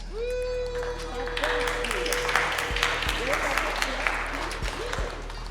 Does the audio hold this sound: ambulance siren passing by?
no